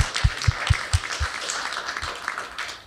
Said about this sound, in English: everybody should be clapping for this guy